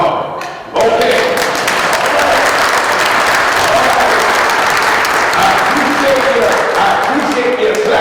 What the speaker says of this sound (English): I appreciate you clapping with the merriment